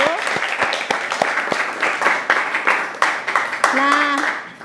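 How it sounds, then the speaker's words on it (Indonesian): A classroom of students claps together, a steady close round of applause lasting several seconds with a voice briefly rising over it near the end. "Silakan kita berikan aplaus dulu."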